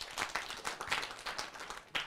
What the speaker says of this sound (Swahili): Makofi kabisa.